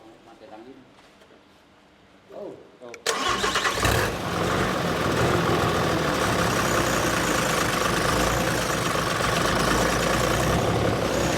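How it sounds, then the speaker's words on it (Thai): A Mitsubishi 6M61 diesel engine, bought to replace the broken engine in a harvester, cranks and starts, then runs at a loud, steady rough idle; a voice speaks briefly before it fires. "เดี๋ยวลองติดเครื่องดูที"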